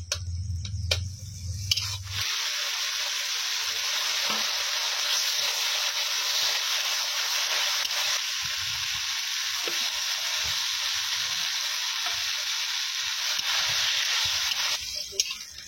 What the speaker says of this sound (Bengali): পটল ভাজা।